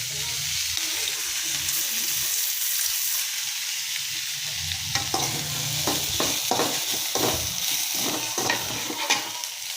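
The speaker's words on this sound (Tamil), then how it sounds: "இந்த ஸ்டேஜில் நம்ம இப்போ தேங்காயையும் போட்டு வதக்கி எடுத்துருவோம்" Grated coconut with mint sautés in a pan for chutney, a steady close sizzle that later gives way to a run of rhythmic spatula scrapes and stirs.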